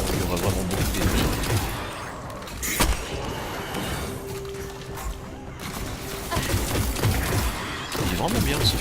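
Rapid rifle fire in the video game Destiny, a dense stream of clattering shots and bursts running throughout, with someone talking over them.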